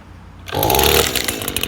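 Gas weed trimmer engine catching after a quiet moment, then roaring up loud and close with a buzzing two-stroke rattle as it keeps running.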